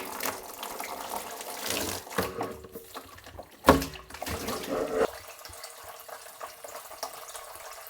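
A faucet sputters and spits in uneven bursts from air in the water lines, with a sharp gush midway before the flow settles into a quieter, thinner trickle.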